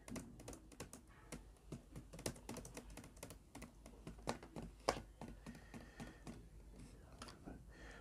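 Someone types a name on a computer keyboard, producing a quiet, irregular stream of crisp keystroke taps with small bursts and gaps, heard close with no talking.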